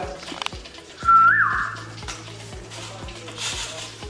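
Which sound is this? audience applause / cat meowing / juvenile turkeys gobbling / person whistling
person whistling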